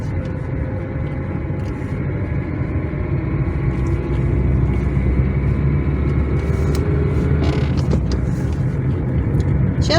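A car drives along a village road in spring, its engine and tyre rumble steady and close throughout, with a few faint knocks and rattles from the cabin.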